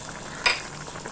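Paruppu urundai kuzhambu simmers in a pot with a soft background bubbling, broken once by a short sharp clink or stir near the middle.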